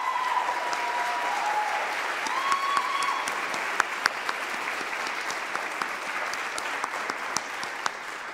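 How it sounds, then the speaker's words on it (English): Sustained audience applause at a campus convocation, dense steady clapping from a crowd held at an even level throughout with a few sharper individual claps standing out near the end. "Let's give her another round of applause"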